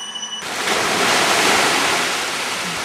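Sea waves wash and splash up close at Ko Surin, Thailand, in a loud, steady rush of surf that swells after a brief quieter start.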